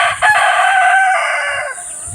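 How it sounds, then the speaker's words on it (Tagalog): Chicks feeding give loud, close, high-pitched peeping calls, one sustained cry after another, with no talk. "Mga sisiw natin. Kumakain na rin sila."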